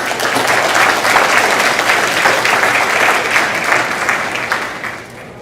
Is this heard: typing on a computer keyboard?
no